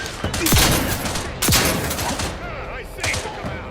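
Loud shotgun blasts ring out in the video game The Outer Worlds 2, about three heavy booming shots spaced roughly a second apart, each with a rumbling tail over background game noise.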